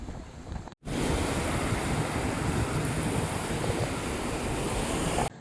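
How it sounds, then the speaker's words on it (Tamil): Floodwater on the Cauvery River near Erode in 2022 surges against a bridge, making a loud, steady broadband roar that holds evenly for several seconds with no voices. "வாட்டரை பார்த்திங்கன்னா வந்து இடிச்சிட்டே இருக்குது பிரிட்ஜில் கண்டினியூஸாக"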